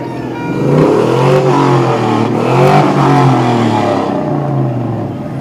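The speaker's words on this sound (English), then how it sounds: "Roar of a couple engines" A couple of car engines rev loudly and close by during a July 4th Freedom Fest parade, rising and falling in pitch over several seconds in a continuous roar.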